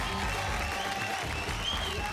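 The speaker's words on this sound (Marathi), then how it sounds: "जोरदार टाळ्या होऊन जाऊ द्या" An audience applauds a performance on a Marathi television show stage, dense continuous clapping from a crowd that is steady and fairly loud throughout.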